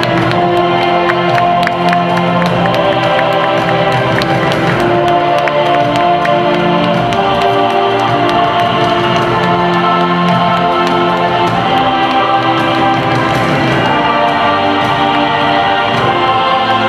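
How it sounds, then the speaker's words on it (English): A large crowd at the launch of the world's largest fountain show on Palm Jumeirah cheers and applauds continuously, a dense, loud wash of clapping and shouts. "Everybody, put your hands together."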